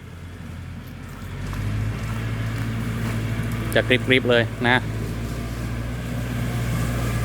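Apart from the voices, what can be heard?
Kubota L4708 tractor mowing grass in palm plantation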